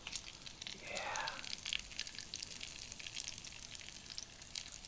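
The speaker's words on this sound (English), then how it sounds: "I'm just gonna cook these collard greens down a bit." Collard greens fry in a hot pan with bacon, giving a steady close crackling sizzle, louder at first and then settling, with a brief swish as they are stirred.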